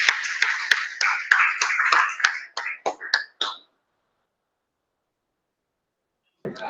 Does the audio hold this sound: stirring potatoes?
no